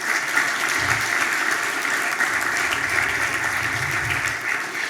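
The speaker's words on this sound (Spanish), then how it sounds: "para quien pido un aplauso" An audience at a panel on democracy applauds a panelist, the president of the Supreme Electoral Tribunal, with dense, sustained clapping that holds steady throughout at moderate loudness.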